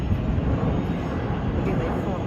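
A low-flying airplane passes overhead in the Deira district of Dubai near the airport, a loud, steady, rumbling jet roar close by.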